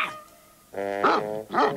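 A single dog in a Kit Kat pet food advert gives a few close, loud barks, one after a short silent gap and then two more in quick succession, with a brief whine at the start.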